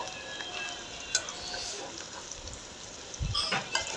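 Bitter gourd and potato frying in oil for a Bengali karela bhaji with shrimp, a steady soft sizzle with occasional scraping stirs and a couple of utensil clinks, close and alone.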